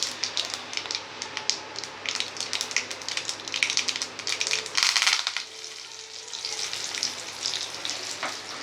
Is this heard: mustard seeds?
yes